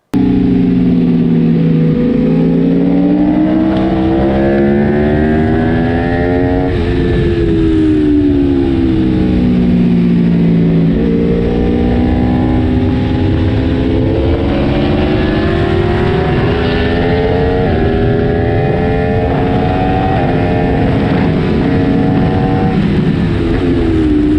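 A motorcycle on a trackday at Donington Park, its engine loud and close, rising and falling in pitch through repeated gear changes and accelerations over the whole stretch, with wind roar behind.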